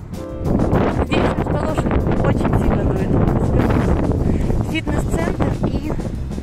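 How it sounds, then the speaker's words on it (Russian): Strong wind buffeting the microphone on a street in Prague 4 beside a new bus stop, a loud continuous rumbling roar with gusty surges throughout, no clear speech. "очень сильно дует"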